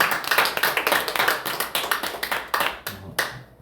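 A church congregation at a Friday prayer meeting applauds a student, with brisk clapping from many hands in steady overlapping bursts that thin toward the end.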